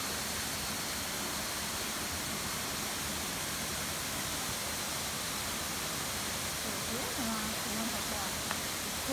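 Hossawa Falls in Hinohara village, Tokyo, roars as a steady, dense rush of falling water that fills the scene evenly throughout, with faint voices barely audible beneath it.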